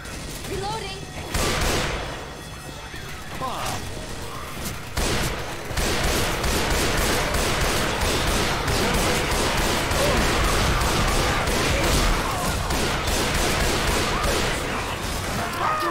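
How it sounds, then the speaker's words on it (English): Sustained, dense gunfire from the Left 4 Dead co-op zombie shooter, loud and nearly continuous with rapid overlapping shots and bursts, building heavier after the first few seconds, with voices partly buried under the shooting. "Watch where you're shooting!"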